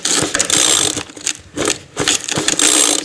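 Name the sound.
McCulloch leaf blower engine starting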